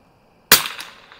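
A single sharp crack from a Remington 513-T rifle firing CCI Standard Velocity .22 ammunition, loud and close, with a short fading tail after a moment of quiet.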